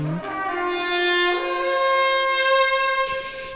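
Carnyx, an ancient Gaelic horn with a lion's head bell, sounds one loud, sustained brassy blast that shifts pitch early and then holds a steady, harmonic-rich tone for about three seconds.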